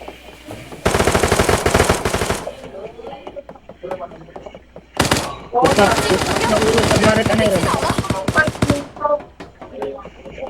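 Rapid automatic gunfire bursts in the mobile shooter game Knives Out, loud rattling volleys separated by pauses, with players talking over the game sounds.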